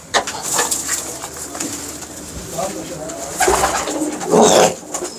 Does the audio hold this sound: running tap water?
no